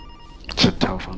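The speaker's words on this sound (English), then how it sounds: "It's a telephone." A telephone rings in a couple of short bursts, close and fairly loud, with a voice nearby.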